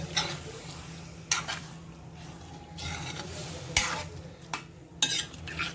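Paneer tikka masala is stirred in a kadai with a spoon, giving several sharp scrapes and clanks against the pan over a low, steady sizzle.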